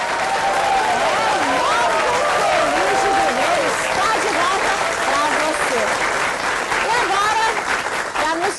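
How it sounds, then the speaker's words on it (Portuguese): A Brazilian TV studio audience at a Seicho-No-Ie programme applauds in a loud, steady wash of clapping that lasts the whole stretch, with a voice speaking over it. "ao som dos aplausos do auditório mais feliz do Brasil, cadê o aplauso?"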